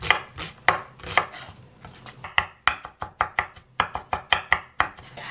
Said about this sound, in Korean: 양파를 좀 많이 잘게 했습니다.